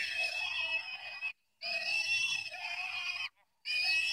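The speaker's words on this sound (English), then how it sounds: "I don't want to hear any more pig squealing" Three loud, shrill squeals in a row, each lasting over a second, separated by short silences.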